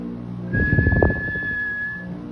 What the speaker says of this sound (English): Then he heard the whistle again.